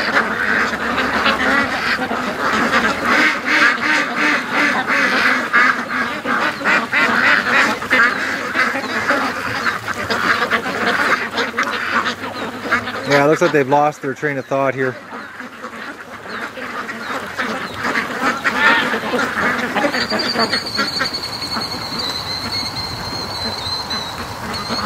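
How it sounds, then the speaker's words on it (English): Ducks being raised for charity quack at feeding time, dispersing and milling around outdoors; steady, fairly loud flock calls throughout, with someone talking over them. "the ducks are dispersing here"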